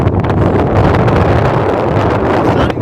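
Strong wind buffets the microphone on an exposed hilltop along the Heysen Trail near Mount Arden in South Australia, a loud continuous roar and rumble that never lets up across the short clip.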